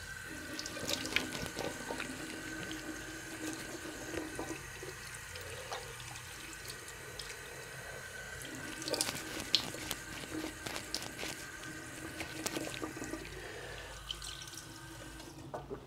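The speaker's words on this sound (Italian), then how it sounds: "Io vado con un breve risciacquo nuovamente del viso" Water runs from a sink tap while a face is rinsed, a continuous close splashing and trickling with shifting bursts as hands move through the stream.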